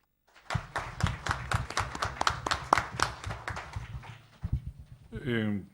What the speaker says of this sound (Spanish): les pido un fuerte aplauso también para él